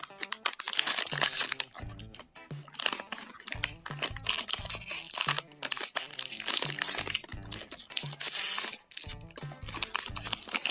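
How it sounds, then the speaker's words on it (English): HP 803 black ink cartridge package torn open by hand, a long run of loud, close crinkling, crunching and ripping of plastic and cardboard in uneven bursts with brief pauses, no talk. "Okay friends, now let me tear this."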